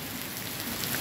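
Heavy rain pours steadily in Guajará-Mirim, Rondônia, a dense, continuous hiss of drops striking surfaces close by, with no voices.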